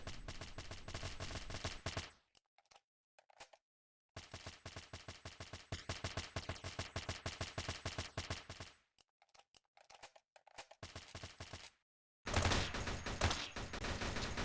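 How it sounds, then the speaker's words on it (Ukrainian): Long bursts of rapid gunfire crackle in quick repeated volleys, separated by brief silences, loud and close. "Там якісь люди стріляють."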